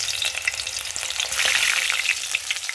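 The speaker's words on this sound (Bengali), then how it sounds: "এবার বেগুনগুলো ভাজ দিয়ে দেব" Eggplant slices fry in hot oil over a low gas flame, a close, steady crackling sizzle with bursts of spattering that swell toward the end, no voices.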